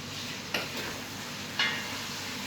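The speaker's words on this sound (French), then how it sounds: "j'ai mis mon bourguignon dans le fond de la cocotte avec du beurre" Beef chuck sizzles as it browns in butter at the bottom of a casserole pot, a steady frying hiss with two sharp clinks of stirring, no speech.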